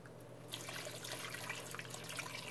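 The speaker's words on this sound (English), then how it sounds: "And I'm going to add some more water to it" Water poured into a pot of pot roast with its gravy, a steady close splashing and trickling that starts about half a second in and runs on evenly to the end.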